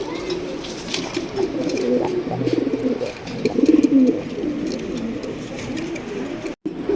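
Large Sirazi pigeons at a farm coo steadily and close by, their low rolling calls overlapping throughout with a brief dip near the end.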